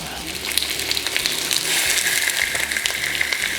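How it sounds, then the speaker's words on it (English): Steady, crackling sizzle of chicken thighs frying in a hot pan, close and continuous, with small pops scattered throughout. "These babies in the pan, sizzle up."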